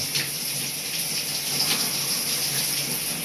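Freezing cold water pours steadily over a person's body during an outdoor cold-water prayer, a continuous close splashing gush with no talking.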